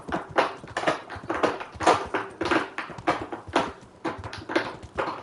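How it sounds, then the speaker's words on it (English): Repeated rhythmic scratching strokes, close and fairly loud, a cat's claws raking a scratching post in quick bursts with short gaps. "that noise you hear in the background is my cat using the scratching post"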